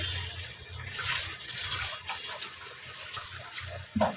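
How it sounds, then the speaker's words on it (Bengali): Water poured into a pan of fish curry to make the gravy: a steady, close splashing pour lasting several seconds with a slight rise and fall, ending in a brief knock. "ঝোলের পানি দিয়ে দিব ঝোলের পানি"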